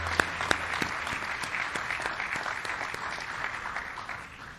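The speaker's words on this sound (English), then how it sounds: "Let's give her a big round of applause." Audience applause at a groundbreaking ceremony for a genomic medicine building, a steady moderate clapping from a crowd lasting several seconds and tapering off slightly at the end, with no talking over it.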